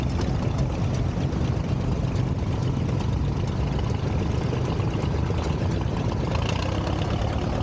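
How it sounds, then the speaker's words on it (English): A 1950 Allis-Chalmers WD tractor engine idles steadily at a parade, a continuous low rumble held at an even level from start to finish with no talking. "Luke is driving his 1950 Allis-Chalmers"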